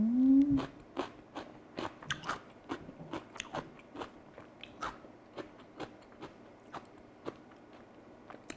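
Crisp bites into crunchy raw Korean radish repeat in a steady rhythm over several seconds, close and clear, with a brief squeaky sound at the very start and no talking.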